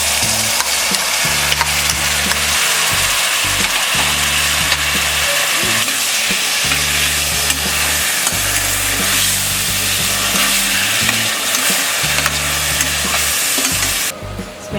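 Soaked moong dal frying with spices in a pressure pan while being stirred: loud, continuous sizzling with repeated scraping strokes of a spoon, close and busy, with no voices.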